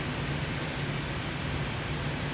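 Van air conditioning blower fan in a Nissan NV350 running after a blown fuse was replaced: a steady, even rush of air with a low hum underneath, continuous and unchanging, with no voices.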